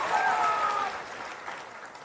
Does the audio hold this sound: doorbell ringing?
no